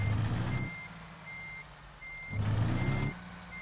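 A truck in American Truck Simulator sounds steady, evenly spaced reversing beeps, repeated about four times in a slow rhythm over a low engine rumble that swells twice.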